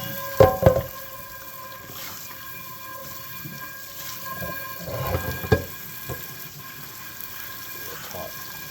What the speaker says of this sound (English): this is only with hot water, using the steam to clean it.